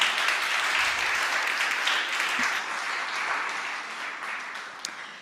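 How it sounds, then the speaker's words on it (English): A crowd applauds steadily for about five seconds, a dense wash of clapping that stays fairly even before easing slightly toward the end. "a round of applause for her"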